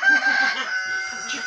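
Backyard chickens call loudly and close by for about a second and a half, a steady, strained vocal tone with no talking over it.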